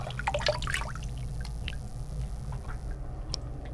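Running water splashes and trickles close by as shaving soap is rinsed off, with a cluster of wet splashes at first, then a softer dribble over a low background hum.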